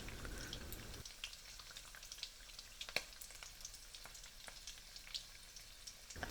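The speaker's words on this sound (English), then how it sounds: "To ensure the bread side is cooking evenly, push them down into the oil." Sesame prawn toasts fry in oil, the bread side pushed down, giving a steady close hiss and crackle with scattered sharp pops and spits throughout, no talk.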